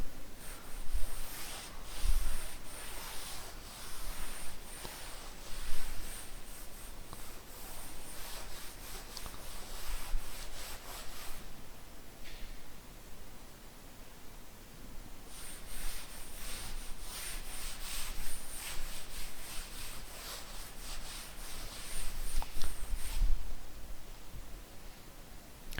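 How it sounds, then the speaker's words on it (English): An object being rubbed during a seventh-grade science lesson, giving soft rhythmic scratching strokes in two long bursts with a quieter pause between, close and fairly faint, no talking. "now I am rubbing this."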